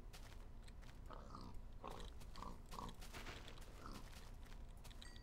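A crowd of pigs in the video game Minecraft gives several quick oinks and grunts in a loose series, with a constant layer of game ambience running underneath.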